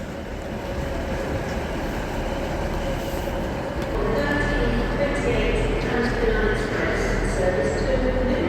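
TransPennine Express train at Carlisle station on the West Coast Main Line, a steady low rumble of the train running in with station ambience, growing slightly louder partway through, no clear talk over it.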